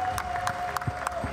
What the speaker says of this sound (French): One last time, please make some noise for our judges today.